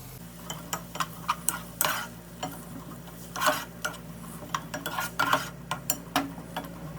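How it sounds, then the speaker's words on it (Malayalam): Garlic, mushrooms and carrots being sautéed in a pan for white sauce Alfredo pasta, a soft background sizzle under irregular clinks and taps of a utensil against the pan, close and without speech. "മഷ്റൂം ചെറുതായി വാടി വരുമ്പോൾ ഇതിലേക്ക് ക്യാരറ്റ് ഇട്ട് കൊടുക്കാം"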